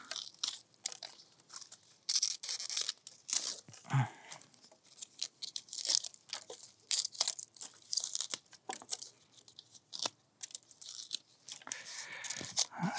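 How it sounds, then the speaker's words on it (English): Leaves are peeled and pulled back from a pineapple top being trimmed, giving close, irregular tearing and crunchy ripping sounds with crinkling rustles throughout. "So we're just gonna give it a little peel back, little trim."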